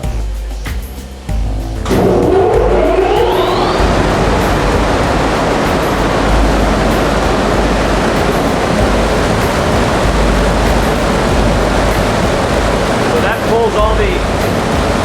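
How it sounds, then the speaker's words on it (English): A powerful exhaust fan in an engine dyno room spins up after a quiet moment, then roars with a loud, steady rushing drone that continues unbroken. "let's turn on this fan"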